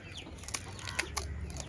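Chickens cluck at a low level in the background, a few short broken calls over a steady low hum, with no voices.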